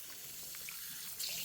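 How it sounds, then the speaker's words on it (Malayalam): Drinking water runs out of a leaking pipe near a riverside temple path in a continuous faint hiss and trickle. The flow is steady, with a slightly brighter splash near the end and no speech. "ഇതവിടെ പൈപ്പ് ചോർന്ന് വെള്ളം പോകുന്നുണ്ട് കുറച്ച് സ്ഥലത്ത്"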